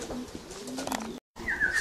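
Cooing of a racing pigeon arriving at its loft, close and clear, with a brief gap of silence and a higher whistling tone near the end.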